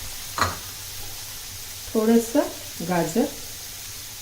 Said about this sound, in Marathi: आणि हे आपण आता छान परतून घेऊया